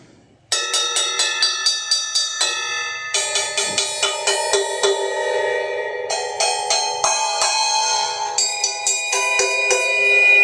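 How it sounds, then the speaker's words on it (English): Bright ringing strikes on the bell of drum-kit cymbals, played in a steady series of close, loud, metallic pings with sustained overtones and a few shifts in pitch. "can also play the cymbals by their bell too."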